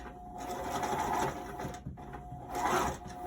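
Sewing machine stitching pockets onto a dress, running close and loud in two bursts of steady whirring with a brief pause between them.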